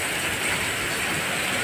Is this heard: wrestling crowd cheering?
no